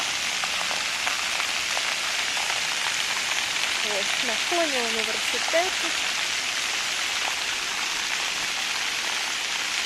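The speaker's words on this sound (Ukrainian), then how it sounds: "вода грає різними струменями" City fountain in Kharkiv near a university, water shooting in varied jets and splashing in a steady broadband wash that runs the whole time, with people talking nearby over it.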